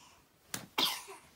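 Two quick sneeze-like bursts from a person in a home with children, the second sharper and louder, close to the microphone with no talking over them.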